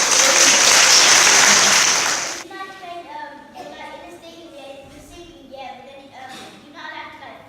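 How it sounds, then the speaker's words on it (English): A workshop group gives a loud, dense burst of applause after a student's Shakespeare performance. It cuts off after about two seconds, and speech follows. "Big round of applause!"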